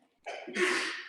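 A single close sneeze: a quick sharp intake of breath followed by an explosive burst, then silence.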